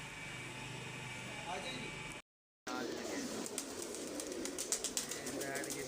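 Pigeons cooing on a rooftop, soft coos mixed into a steady wash of outdoor noise with a hum like an engine or air conditioner, broken by one short silence, with faint voices in the background.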